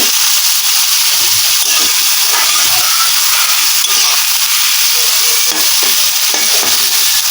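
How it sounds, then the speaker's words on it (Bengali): Sliced onions frying on high heat for mutton biryani birista, a loud steady sizzle and hiss of hot oil filling the space close up, with soft stirring scrapes underneath and no voices. "চুলোর আঁচটাকে হাইতে রেখে পেঁয়াজটা ভেজে ব্রেস্তা করে নিচ্ছি।"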